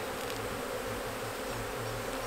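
Honey bees buzz densely around an aggressive hive, forming a steady, close swarm drone that continues unbroken.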